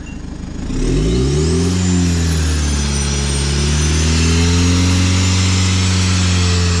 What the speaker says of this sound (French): Monte-le jusqu'à 3000 tours minute à peu près